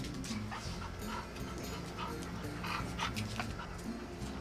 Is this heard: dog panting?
yes